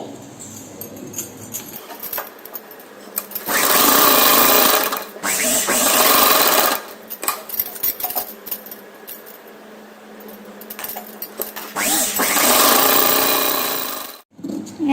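Sewing machine stitching lining onto the front panel of a lehenga top, running in several loud bursts of a few seconds each, separated by quieter pauses with small handling noises.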